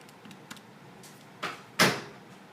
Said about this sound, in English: Door closing behind me in case you heard that.